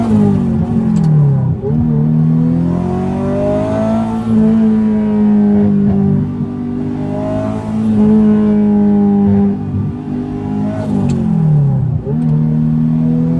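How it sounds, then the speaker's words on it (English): Turbocharged 1988 Ferrari Mondial Coupe engine on the road, loud and close, revving up through gears in repeated rising sweeps with brief dips at each shift and a whooshing turbo edge. "this car is really fun. It sounds like a NASCAR, a turbocharged Subaru, and an Italian exotic all at once"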